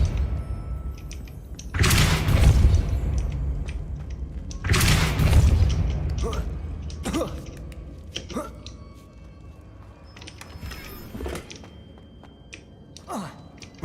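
Spells are cast in Hogwarts Legacy, with two heavy booming blasts followed by several sharper, lighter impacts and snaps scattered over the remainder, set against game sound and occasional voice.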